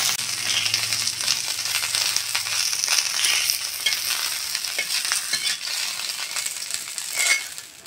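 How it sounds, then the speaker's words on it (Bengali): Lote (Bombay duck) fish pieces fry in mustard oil with a loud, crackling sizzle and spitting pops, steady throughout with a brief faint hum early on. "এরকম ভাবে সব মাছগুলো ভেজে নেব।"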